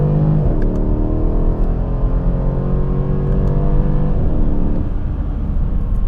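A 2016 Mercedes CLS63 AMG with V8 and 7-speed automatic accelerates hard while merging onto a highway, a loud continuous engine roar heard from inside, rising in pitch through the gears with a brief drop at a shift.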